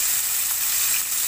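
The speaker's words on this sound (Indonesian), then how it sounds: "pan fry kita punya ribeye steak dulu" A ribeye steak sizzling as it pan fries on a hot plate, a steady bright hiss with faint crackles and no voices over it.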